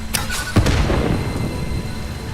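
An explosion in the video game Satisfactory goes off as one loud, sharp boom, followed by a rumbling tail that fades slowly.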